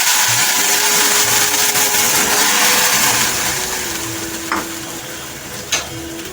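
Lentils (dal) tipped into sizzling hot spiced oil tempering for chickpea dal, giving a loud, steady close frying hiss that slowly fades, with a couple of sharp clinks near the end.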